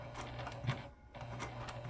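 A sewing machine stitches steadily at close range past a zipper, with a continuous whirring hum and a brief pause midway, and no one speaks.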